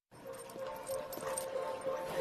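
A dog in a dog-food TV commercial gives faint whimpering and yipping sounds, quiet and brief, with a soft tonal background underneath.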